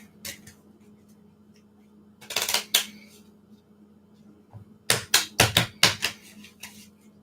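Tarot cards are shuffled by hand in a quiet room, with close, crisp bursts of riffling and slapping, one cluster early, then a rapid series of sharp card snaps toward the end.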